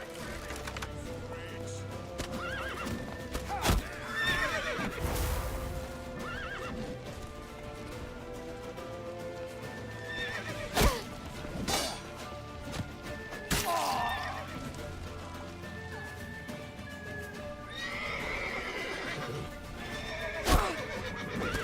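Horses neigh and whinny repeatedly over rhythmic hoofbeats, with sharp crashing hits scattered throughout, in a busy scene from the video game The Witcher 3: Wild Hunt.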